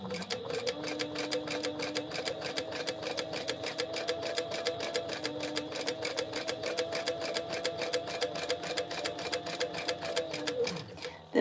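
A sewing machine runs steadily, back stitching an eighth-inch seam across the top of a boxy crossbody bag, with a fast even needle rhythm that stays loud and close for the whole stretch before stopping.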